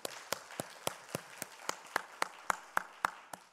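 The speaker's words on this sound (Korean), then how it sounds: "우리 하나님께 감사 박수입니다." A church congregation at a Gangnam fasting prayer retreat claps in unison, about thirteen crisp, evenly spaced claps in a steady rhythm, moderately quiet and with no talking over them.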